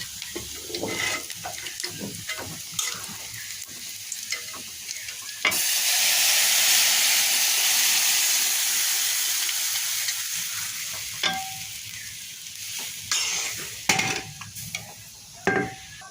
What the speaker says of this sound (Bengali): এবার আমি সিদ্ধ করা লাউ ডালটা ভেতরে ঢেলে দেবো